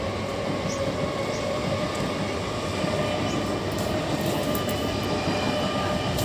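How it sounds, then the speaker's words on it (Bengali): A train rolls past close to a rooftop garden, a loud, steady rumble of wheels and carriages that fills the whole stretch with no voices over it. "আবার ট্রেন, আর পারা যাচ্ছে না।"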